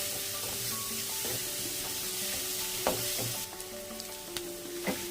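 Grated bottle gourd fries in a pan while a utensil stirs it, a continuous soft sizzle broken by several sharp scraping and tapping strokes, close up and with no speech.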